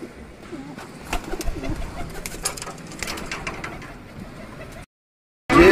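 Several pigeons coo softly and repeatedly close by at a railway station in Gonda, Uttar Pradesh, with light rustling, before a brief silence and a sudden loud noise at the end.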